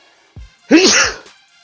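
A single sharp sneeze preceded by a quick intake of breath, close and fairly loud.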